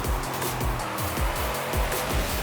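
Car engine revving and tires working hard through turns in the racing game Forza Horizon 5, with repeated rising and falling engine pitch sweeps at a steady, loud level and no talk.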